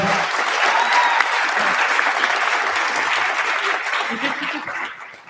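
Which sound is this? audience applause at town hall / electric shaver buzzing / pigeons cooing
audience applause at town hall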